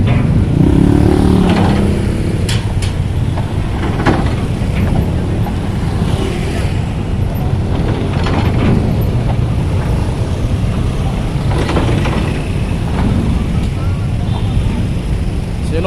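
Many motorcycles crowding a ferry dock, a dense close drone of idling and revving engines with passing surges, overlapped by voices of people talking and calling out.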